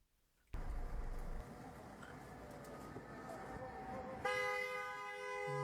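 A car horn sounds in a sustained blare near the end, preceded by a steady background rumble of traffic with faint voices.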